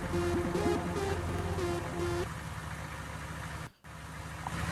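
A car engine idles in a GTA-like video game, a steady mechanical hum with a tonal whine over the first couple of seconds, then a brief cutout before the drone resumes.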